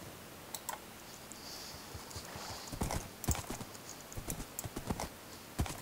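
Quiet hollow clip-clop of horse hooves in a Minecraft video game, sparse at first then quickening into a trotting rhythm, with faint clicks in the background.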